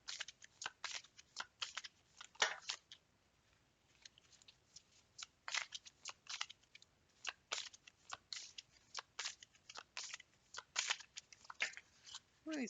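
Tarot cards are shuffled by hand in repeated quick, crisp riffles and slaps, close and fairly quiet, with short pauses between bursts.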